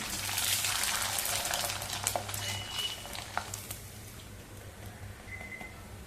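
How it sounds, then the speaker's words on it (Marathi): Mung dal rava papad frying in hot oil, a soft bubbling sizzle with faint crackles and a few sharp clicks, fading slightly toward the end. "आणखी एक आपण तळण्यासाठी पापड तेलामध्ये घालू."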